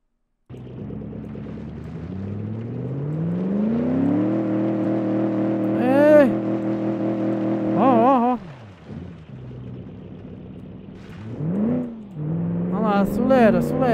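A car engine in the BeamNG Drive driving game revs and accelerates, its pitch climbing in rising sweeps and whining higher at peaks, over a steady loud drone, with an excited voice talking throughout.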